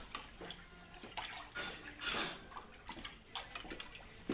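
Yeast is vigorously mixed into home-brew wort, giving quiet, irregular sloshing and splashing bursts of liquid with no talk.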